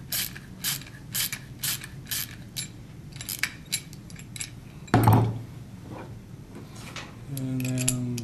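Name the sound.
ratchet tightening satellite dish roof mount bolt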